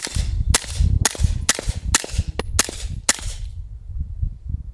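Six sharp, muffled gunshots from a suppressed 9mm carbine, fired into dirt in quick succession about half a second apart, close and loud, followed by quiet outdoor ambience.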